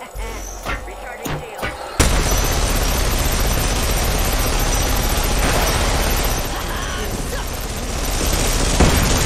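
Sustained automatic gunfire in the battle-royale game Apex Legends during a ranked match playing Rampart, a dense continuous barrage that runs loud for several seconds after an abrupt start, with faint voice beforehand.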